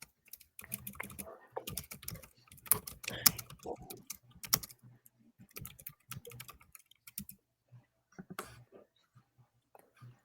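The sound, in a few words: typing on a loud mechanical computer keyboard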